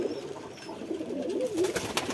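Lotan pigeons on a rooftop coo softly in low, rolling bursts over faint outdoor background noise, fairly quiet and with no speech.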